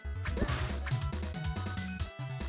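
Background music for one area of a SNES video game plays: a busy, steady track with a pulsing bass line and layered melodic tones. It runs continuously at an even level, with no one talking over it.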